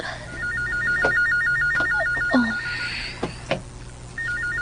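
A telephone rings indoors in a house with a repeating electronic trilling ring in bursts, pausing between rings, alongside scattered clatter and household knocks.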